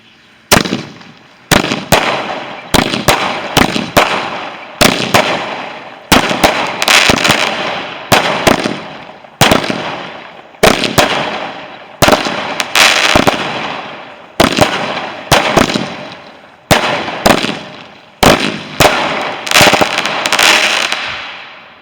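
Bonfire Night fireworks burst outdoors in a long run of loud, sharp bangs, coming in quick clusters and rapid crackling volleys with brief gaps between them.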